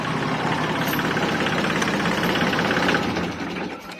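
An engine idles with a steady, loud, rough rumble while a rice mill is being moved behind a house, then dies down near the end as it is switched off.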